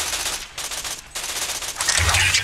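A robot fires rapid bursts of gunfire in the Tales from the Borderlands video game, loud close rattling volleys broken by two short pauses, with a low rumble building near the end.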